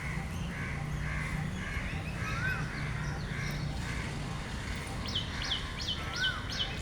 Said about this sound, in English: Crows are so cute.